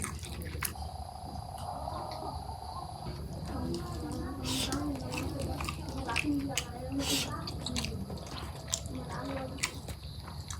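Someone eats a curry of gourd leaves and stems, new potatoes and dried fish. Soft, wet chewing and biting sounds repeat close by over a steady background hum, with speech here and there.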